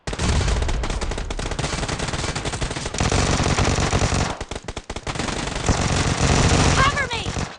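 Dense, loud automatic gunfire in the video game PUBG Mobile, rapid overlapping bursts almost continuous with a short lull midway, over game action noise.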